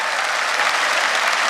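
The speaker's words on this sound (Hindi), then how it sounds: "तालियां दीजिए।" Steady applause from an audience at a Hindi comedy and satire poetry performance, a dense wash of clapping hands with no pauses, moderately loud throughout.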